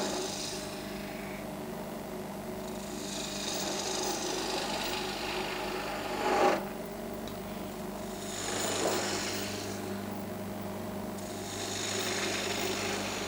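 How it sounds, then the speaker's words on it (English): A gouge cutting into spinning wood on a lathe during spindle turning, a steady whirring drone with swelling, rasping cutting passes that rise and fade several times, close and continuous. "I'm pushing the gouge into the wood first, and then rolling it all the way round"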